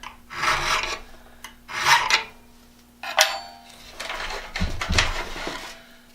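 An Irwin-Jennings style auger bit being sharpened with a file, its worn edges needing heavy metal removal; repeated close, loud rasping strokes come in about five bursts with short pauses between them.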